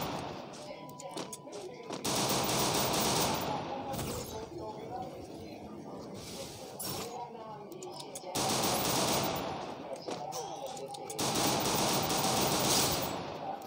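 Gunfire in a shooting video game, 3v3 match: bursts of rapid automatic fire and sharp shots in several loud clusters separated by quieter gaps, with players talking over it.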